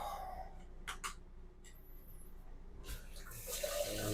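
Water runs from a faucet into the sink of a 2025 Range Lite 241BH lightweight camper, a soft hiss with brief clicks and a louder gush near the end, close and alone.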